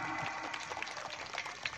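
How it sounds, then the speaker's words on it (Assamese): Applause from an audience at an International Women's Day celebration, a steady wash of many hands clapping at once, fairly distant and even in level throughout. "প্ৰত্যেকগৰাকীয়ে নিজৰ কাৰণে এটা হাত চাপৰি মাৰক"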